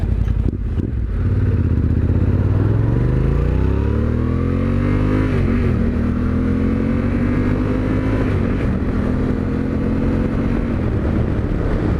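A Yamaha Tenere 700 motorcycle engine with an aftermarket exhaust rumbles loudly and steadily nearby, its deep exhaust note rising and falling as it revs up and settles.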